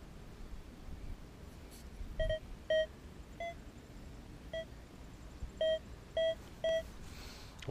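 Metal detector sweeping for gold gives a bottle cap signal: a series of short, clear electronic beeps in an irregular rhythm, each a steady tone, moderately loud over quiet outdoor background.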